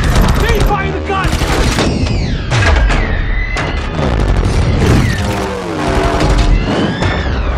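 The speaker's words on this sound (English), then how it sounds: "fire the gun!" Gunfire erupts during a high-speed ship and drone chase in Transformers: Age of Extinction, loud bursts and booms layered under a dense movie score and effects, with voices shouting over the din.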